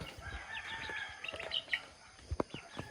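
Chickens being fed cluck and squawk in short bursts, with a few sharper calls near the end, over light background noise.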